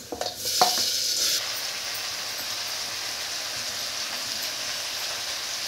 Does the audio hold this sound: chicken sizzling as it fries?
yes